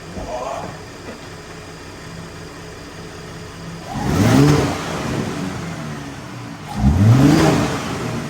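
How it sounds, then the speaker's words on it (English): A 2021-2024 Ford Raptor pickup fitted with a JLT intake idles low, then its engine revs twice in quick rising-and-falling bursts, the second slightly stronger, recorded close by. "Give her a little bit of gas, see how she sounds."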